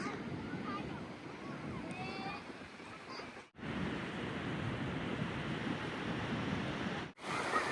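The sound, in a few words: sea waves at high tide on a beach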